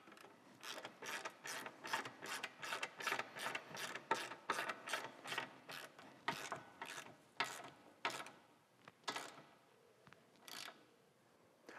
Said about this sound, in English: Now I'm gonna come back here and tighten down the bracket.